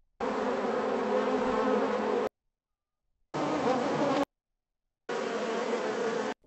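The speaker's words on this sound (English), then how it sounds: "that sounds exactly like a beehive" AI-generated beehive buzzing in three separate bursts, each a dense, steady insect drone of many bees, cut off abruptly by short silences between them.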